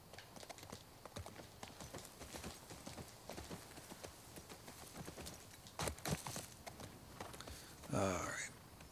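Horse hooves clip-clop in a rapid, even rhythm in The Last of Us Part II, quiet and fairly close, with a short snort or whinny-like burst near the end.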